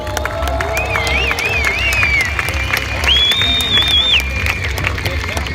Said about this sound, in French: J'aimerais que vous fassiez s'il vous plaît une ovation pour Marc